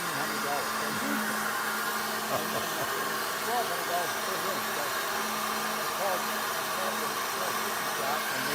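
A cylinder head flow bench testing a 350 small-block Chevy Fast Burn head runs as a steady, loud rushing roar of air with an even tone throughout, while voices talk faintly beneath it.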